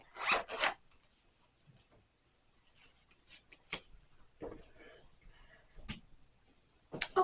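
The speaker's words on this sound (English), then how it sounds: "Anyway, let's close this. If I can find the zipper pull." A zipper pull drawn along a bag to close it: quick raspy zips near the start, then scattered rubbing and short scratchy pulls, quiet and close with no talking.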